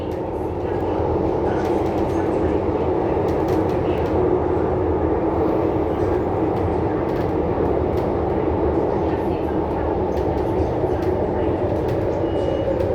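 An MTR West Rail Line (Tuen Ma Line) C-Train, set P405, running between Hung Hom and Nam Cheong, with a steady, loud rumble of wheels and motors that holds evenly throughout the ride.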